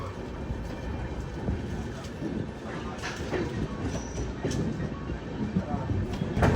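A Khasi Tamil Sangam special passenger train runs between Nagpur and Itarsi, giving a continuous low rumble and rattle heard from inside the carriage, with a voice talking over it.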